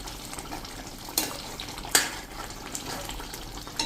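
Fried fenugreek leaves being stirred into a frying pan of potatoes, a continuous gentle sizzle with a couple of sharp scraping clicks from the spoon.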